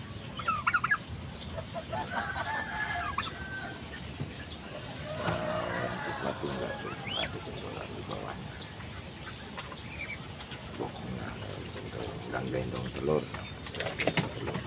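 Ducks calling with clucking, quacking sounds while one lays an egg, a steady farmyard fowl chorus close by with intermittent louder calls throughout.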